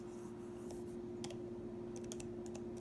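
Sparse, light computer keyboard clicks in short clusters over a steady low hum, with no one speaking, as AutoCAD commands are typed.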